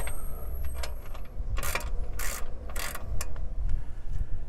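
A ratchet with an extended 1/2 inch socket on a 3/8 drive tightens a front Bilstein shock bolt on a 2005 Ford Ranger 3.0L, giving several short, sharp clicking bursts close by over a low rumble.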